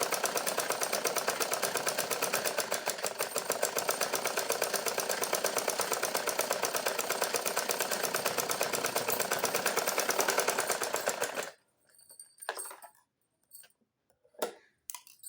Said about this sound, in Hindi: लेकिन हम पहले से सिलाई लगा देते हैं